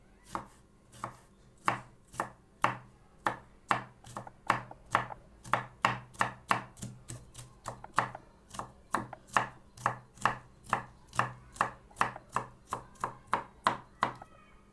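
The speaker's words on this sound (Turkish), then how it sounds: "Aynı boyda doğrayacağım ama e, o biberlerle karıştırmayacağım. Önce e, kırmızı biberi" A knife chops red peppers on a cutting board for menemen, about forty sharp, evenly paced strikes that are close and clear, with a brief pause partway through and no talking.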